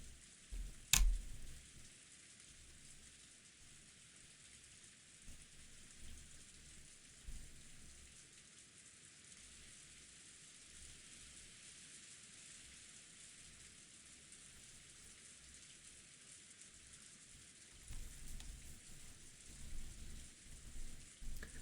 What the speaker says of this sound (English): the dining hall was simply filled with the sound of the rain